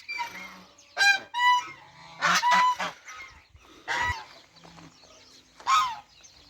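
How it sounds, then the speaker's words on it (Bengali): Ducks and chickens on a village farm in Saudi Arabia give loud, close honking quacks and clucks in several separate bursts, with brief pauses between calls. "হাঁস মুরগির চিল্লি"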